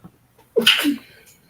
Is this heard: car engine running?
no